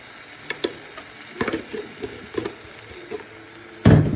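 Liver frying in a pan with chili powder and green chilies, a soft steady sizzle with scattered stirring clicks and scrapes, ending in a louder burst of sizzling, with no voices.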